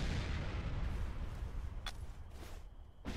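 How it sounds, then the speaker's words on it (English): Mortar explosions during a video game battle at La Drang, a steady roar of booming blasts and rumble throughout, with sharp bursts standing out near the end. "They walking fucking mortars in on us."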